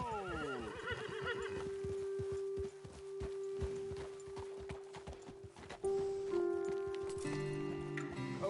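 Horses in Red Dead Redemption 2 whinny and clop along at a steady walk, loud and close, with a musical score layered underneath and a brief rise in intensity partway through.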